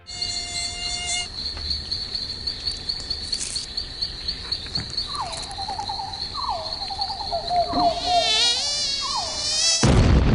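A mosquito whines close by in a Tabasco commercial, a thin, persistent buzz that rises and dips as it circles, joined by a few short chirping sweeps near the end before a sudden loud burst.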